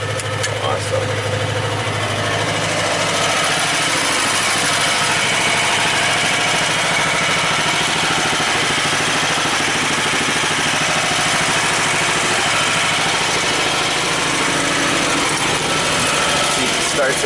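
A ZAZ 966 car engine idles with a steady, continuous rattling hum, loud and close, unchanging throughout.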